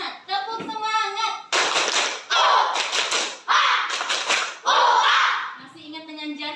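Children perform a rhythmic spirit clap, bursts of loud, close clapping mixed with chanting voices that come in several strong beats, with an adult voice speaking at the start and end.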